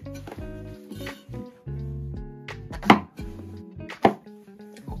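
A knife chops mushrooms in half on a board for a home-cooked stew, giving a few sharp, close cuts over steady music, with a couple of louder knocks.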